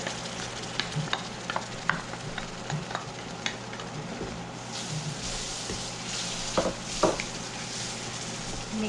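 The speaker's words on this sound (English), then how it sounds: "Now we are going to add tomato puree." Tomato puree going into a hot pan of matar paneer masala and being stirred, with a steady soft sizzle under scattered scraping clicks of the spoon against the pan, close and moderate.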